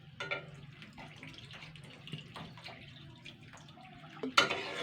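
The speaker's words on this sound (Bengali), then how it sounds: "তো বন্ধুরা এবার আমি সিদ্ধর জন্য জল দেবো অল্প করে।" A little water is poured into a pan to boil potatoes and pointed gourd for a Bengali potol kalia, a soft trickling splash that is faint and continuous, ending with a sharper clatter.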